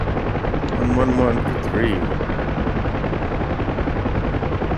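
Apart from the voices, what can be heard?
50 cal machine gun fire and UH-1H Huey helicopter in video game DCS World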